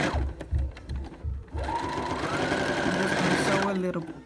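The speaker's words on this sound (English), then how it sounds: "sew a little by little by following the line" A sewing machine stitching heavy denim fabric for a jacket, starting with a few short start-stop bursts and then running in one steady, close, continuous whir for several seconds.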